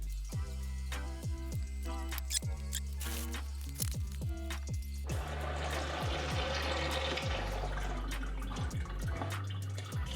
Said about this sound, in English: Still draining. It just keeps draining.